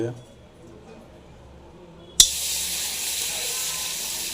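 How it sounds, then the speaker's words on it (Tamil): After a quiet stretch, a cup of water is suddenly poured into a cooking pan of roasting jackfruit, setting off a loud, steady hissing rush that continues to the end. "ஒரு கப் தண்ணி ஊற்றிடலாம்"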